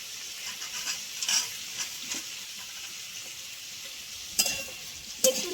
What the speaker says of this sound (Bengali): একটু নেড়ে ছেড়ে নেবো,